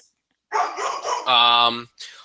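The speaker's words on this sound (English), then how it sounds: "We will start by my dog bellowing." A dog gives several quick barks close by, then one long bellowing howl before a short final yip.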